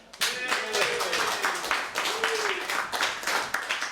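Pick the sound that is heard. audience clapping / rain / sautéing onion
audience clapping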